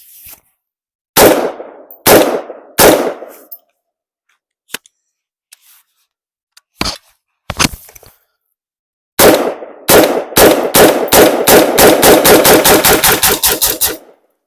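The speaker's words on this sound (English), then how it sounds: "So yeah, just a little mag dump there for this." A magazine dump from an AR pistol fitted with a pistol brace and flip-up sights at a shooting range. A few loud single shots come first, then a long, rapid string of close, sharp gunshots.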